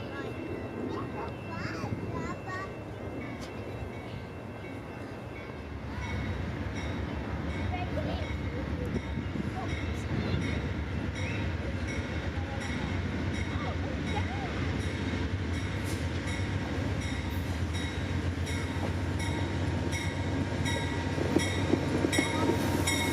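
The northbound Amtrak Silver Meteor passenger train pulls into Winter Park station, a steady rising rumble of rolling cars with faint wheel clicks building over twenty seconds.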